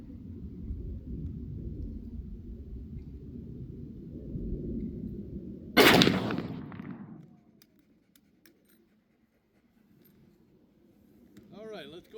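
A single loud shot from a .45-70 Browning 1886 rifle cracks out at an outdoor range, then its echo rumbles away, with wind noise before it and a little talking afterward.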